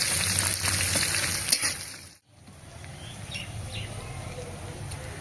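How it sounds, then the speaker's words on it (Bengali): Chopped onion hitting hot oil for kanda poha, a steady close sizzle with a brief break partway through, then frying continuing evenly alone. "তো এবার আমি কুচি করে রাখা পেঁয়াজটা দিয়ে দিচ্ছি।"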